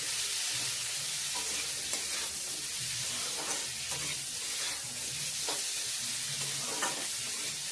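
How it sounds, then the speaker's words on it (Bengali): Khichuri with salt just added is stirred in a hot pot, giving a steady sizzle with repeated soft scraping strokes close by and no speech. "লবণটাকে দিয়েও ভালো করে নাড়িয়ে করে নেবো"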